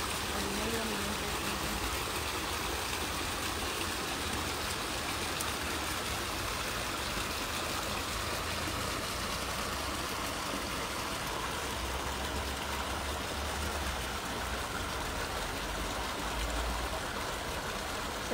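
Open sewage water rushes and gurgles steadily through an open-air sewer channel in Paraguay, a continuous close-up flowing noise with no pauses.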